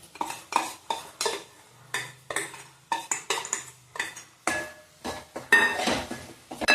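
A metal spoon scrapes and clinks around a pan in quick, repeated strokes as gram flour is stirred into a ridge gourd curry, with a faint sizzle underneath.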